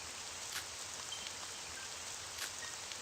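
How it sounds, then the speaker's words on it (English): Steady rainfall in the Danganronpa video game, a continuous hiss of drops with a few louder patters standing out, heard alone without any voices. "Oh, it's raining."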